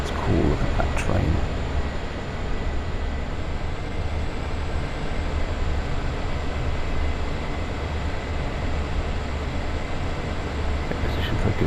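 Train passing in Train Sim World 2 on the Sand Patch Grade, a steady loud low rumble and rolling noise running throughout, with talk over it.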